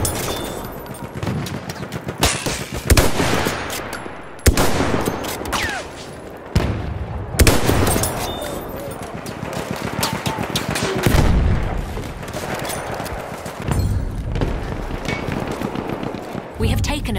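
Rapid bursts of machine-gun fire and gunshots ring out in a video game battle, loud and near, with sharp impacts and shouted voices over the shooting.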